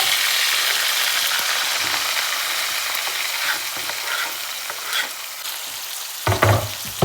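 Garlic, onion and green chili fry with whole spices in a pan for paneer masala. The sizzle hisses steadily up close as a spoon stirs and scrapes now and then, and a louder knock sounds near the end.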